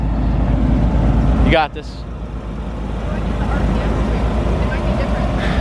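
A Corvette C5 Z06 engine rumbles low and steady at low revs while pulling away gently in first gear, heard from inside the car with a brief spoken line over it.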